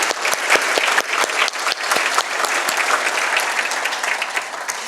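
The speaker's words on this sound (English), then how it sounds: "we just want to give you all a round of applause for being here today" Audience at a Bakersfield, California State of the City event breaks into loud, sustained applause, dense overlapping claps filling the hall for several seconds with no voices over it.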